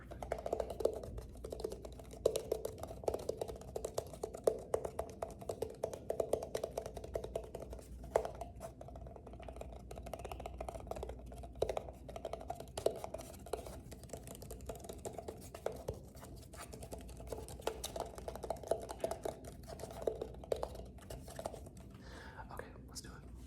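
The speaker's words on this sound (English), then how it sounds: "It's very loud and abrasive. But it's a collapsible dice tower." Plastic collapsible dice tower handled up close, producing a steady stream of loud, abrasive clicking and rattling with crinkly handling noise and no speech.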